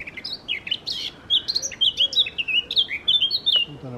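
A small grey bird chirps repeatedly nearby, quick bright high-pitched tweets in an uneven rhythm over a soft background hiss.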